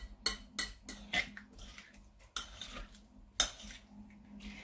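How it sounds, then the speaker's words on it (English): A spoon stirs prawns in a red pepper marinade inside a bowl, giving a handful of soft clinks and scrapes at uneven intervals over a wet swishing sound, quiet and close with no talking. "I'm just going to stir it around, coating the prawns with the marinade."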